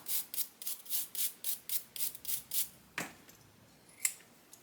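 Freshly sharpened pinking shears snipping, a steady run of about a dozen close, crisp cuts in an even rhythm, then a couple of slower, quieter closing snips.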